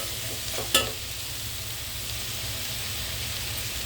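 Cauliflower curry with coriander powder is stirred in a hot pan: a constant soft sizzle with one sharp spoon scrape near the start, close and alone.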